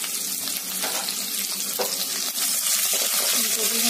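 Green chilies frying in oil with fenugreek seeds and curry leaves for kadhi, a dense, steady sizzle with a few faint stirring scrapes, close and without talk.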